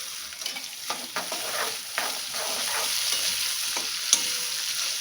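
A large tomato is added to frying onions in a pan, giving a steady close sizzle with scraping and clinking stirring strokes of a spoon throughout and no talking.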